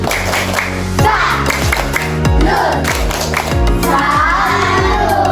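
Indonesian primary classroom children perform a 'tepuk salut' clapping chant: a steady run of sharp, evenly spaced group claps with loud children's voices chanting in unison alongside, close and lively throughout.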